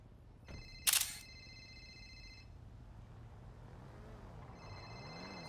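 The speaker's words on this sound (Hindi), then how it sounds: "कितना भाई फोन आ रहा है तुम्हारी गर्लफ्रेंड का ना?" A phone rings in a GTA V NoPixel roleplay game, with faint electronic tones sounding twice over quiet background hum, separated by a sharp click.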